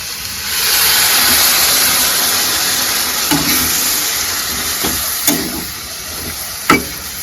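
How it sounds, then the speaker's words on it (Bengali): Cauliflower cooking in a hot pan hisses into a loud, steady sizzle as water goes in, with a few sharp spatters and clinks over the continuous frying noise. "কুক কমপ্লিট, এবার হালকা জল দিয়ে দেবো।"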